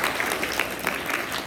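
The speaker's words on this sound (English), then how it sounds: "So give yourselves a round of applause." A PTA meeting audience gives a brief round of applause, a soft, even patter of many hands heard from some distance.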